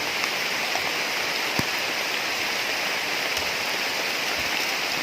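Steady rain pours down heavily with a constant broadband hiss, a few drops landing close by, with no voices, outdoors while mushroom picking.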